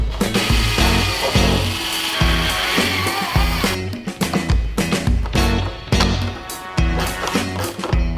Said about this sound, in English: When I drill the final holes for the canard itself, looks like it's clear of the tire and everything.